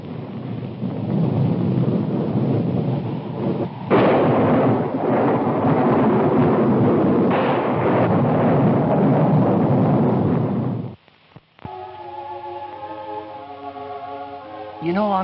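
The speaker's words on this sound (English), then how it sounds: "Storm coming up." A thunderstorm with heavy rain, with loud rolling thunder rumbling over a dense rain hiss. It fades briefly near the end, then other sounds take over.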